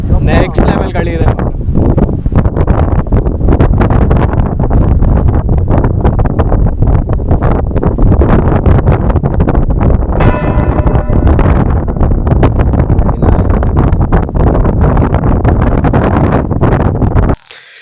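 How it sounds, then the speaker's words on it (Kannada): Strong wind buffets a microphone on a hilltop ride, a loud, constant roaring rumble with gusty fluctuations that dominates throughout, with a voice faintly present beneath it. "ನೆಕ್ಸ್ಟ್ ಲೆವೆಲ್ ಗಾಳಿ ಇದೆ."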